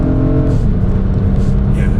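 An Acura Type S engine drones inside the cabin, a loud, steady low rumble building as it climbs into the rev range, with talking over it.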